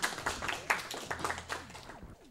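A small audience claps at a live Super Metroid speedrun event, a few seconds of scattered, moderately close handclaps that fade out at the end.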